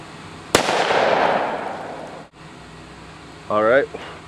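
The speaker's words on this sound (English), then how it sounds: "first shot's going to be in 357 Magnum." .357 Magnum gunshot fired into a frozen ham outdoors: a single sharp, loud crack whose blast decays over about two seconds, followed by quiet and a brief voice near the end.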